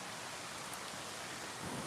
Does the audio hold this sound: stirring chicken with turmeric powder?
no